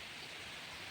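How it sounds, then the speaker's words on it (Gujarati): Heavy rain pours down outdoors as a steady, dense hiss with no breaks, fairly faint and heard alone. "હા તમે જોઈ શકો છો વરસાદ પડે છે ફૂલ એકદમ"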